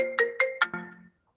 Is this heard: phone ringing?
yes